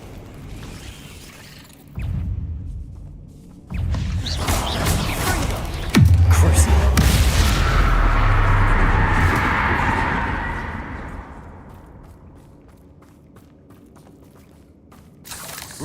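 A Bombarda blasting spell in Hogwarts Legacy, a sudden heavy booming blast that rolls into a long crumbling rumble with debris and then fades away, after an earlier softer whoosh and scattered clatter.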